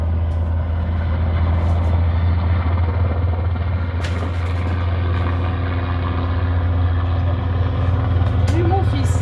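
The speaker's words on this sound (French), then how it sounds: "Juste là, vous avez l'hélicoptère de l'armée." A military helicopter's steady low engine drone and rotor rumble fill the air continuously, with faint voices talking underneath.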